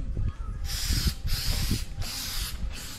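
Flex Seal coating sprayed from a can onto a tire sidewall outdoors, sounding as four close, loud hissing bursts of roughly half a second each with short pauses between them.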